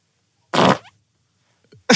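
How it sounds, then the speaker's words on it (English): A fart sound effect from a stereo mix: one short, loud, raspy burst with a brief trailing sputter, then a pause before a second blast begins at the end. "Fart stereo mix number 6."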